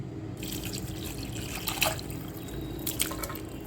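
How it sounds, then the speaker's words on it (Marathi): Cooking water from boiled drumsticks is poured into a curry of fried spice masala, a soft close trickle and splash with a couple of brief louder drips. "या शेंगांचं जे पाणी होतं ते सुद्धा मी याच्यातच ठेव टाकलेलं आहे"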